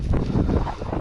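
Strong wind on a fishing outing buffets the microphone, producing a loud, continuous low rumbling roar with no speech.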